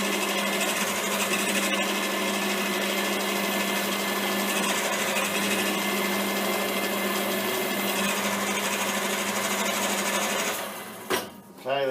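A center drill running on a metal lathe, a loud continuous machine whine and hum that holds steady, then a brief rattle and dropout at the end.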